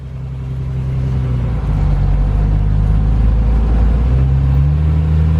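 A Jeep engine runs loud and close with a steady low rumble and drone while the vehicle creeps along slowly with its hood up. The engine pitch shifts slightly a few times.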